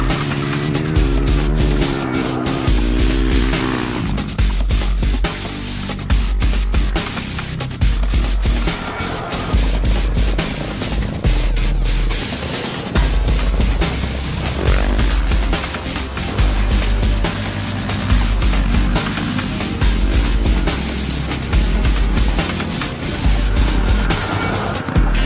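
A WK 450RX motorcycle being ridden, its engine close and loud, revving up and easing off in repeated waves with continuous gear-driven drone throughout.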